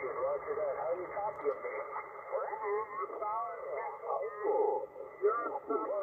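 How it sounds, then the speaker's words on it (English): Interference from a nearby ham radio station on an adjacent frequency warbles through the receiver, a continuous band-limited garble of distorted voice-like modulation and squeals at moderate level. "But now we've got other interference. Hear that? Because there's a station."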